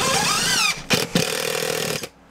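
A power driver with an 8mm socket adapter tightens screws fixing a battery bracket to a wall: a loud close whine that rises in pitch, then short bursts of driving before cutting off.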